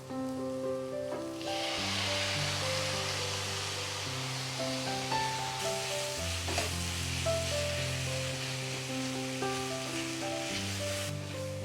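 Chopped tomato sautés in a pan with softened onions and curry leaves, giving a steady, dense sizzle throughout, with gentle music playing underneath.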